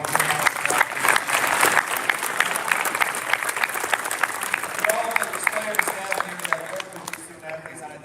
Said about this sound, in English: We get one round of applause